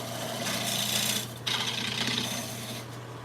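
A regular gouge cuts wood spinning on a woodturning lathe, giving a steady close scraping hiss over the lathe's low motor hum, with a brief break in the cut partway through, no talking.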